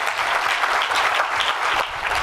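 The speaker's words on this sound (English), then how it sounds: "giving him a very warm round of applause" An auditorium audience at a genetics lecture gives a warm, sustained round of dense clapping to welcome Professor Marks, steady and full throughout.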